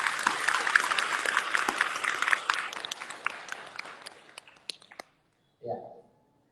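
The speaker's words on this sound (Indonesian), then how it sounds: "Oke, kita kasih applause yang sangat meriah." Audience applause at an Islamic religious gathering, a dense, steady roar of many hands clapping for about five seconds before stopping abruptly, followed by a brief faint sound after a pause.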